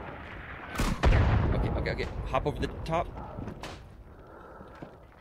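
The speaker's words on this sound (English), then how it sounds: "There's explosions everywhere." Heavy booming blasts and scattered gunfire-like cracks rumble through a chaotic World War I battle in the game Isonzo, with a voice speaking over the noise.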